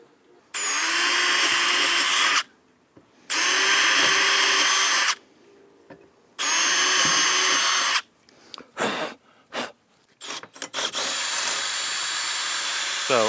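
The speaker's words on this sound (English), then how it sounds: "So I drill the pilot hole first." A power drill drilling a pilot hole whines in three long, steady bursts separated by short pauses, then a few brief stuttering pulses before running continuously, loud and close.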